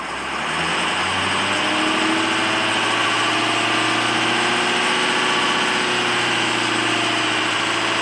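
A 2004 Ford F450 PowerStroke diesel with a failing alternator runs at raised RPM, a loud, steady, droning engine hum with a low rumble that swells over the first second and then holds even.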